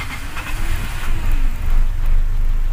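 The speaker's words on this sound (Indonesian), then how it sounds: "Sekarang kita tes starter ya, tanpa diinjak sahabat ya, tanpa diinjak pedal ya, pedal gas ya." A gas-fuelled BBG car engine cranked by its starter on a cold morning without touching the throttle, heard close as a loud rumbling turnover that catches into a steady running hum.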